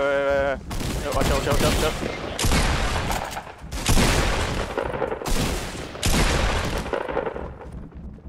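Gunfire in the Fortnite battle royale, several loud, separate bursts of shots and blasts in quick succession with short gaps between them, and a voice speaking briefly partway through.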